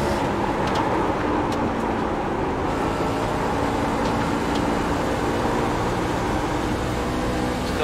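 Race truck engine in the iRacing video game, driven at Iowa, running loud and steady with a constant droning roar and faint higher whine.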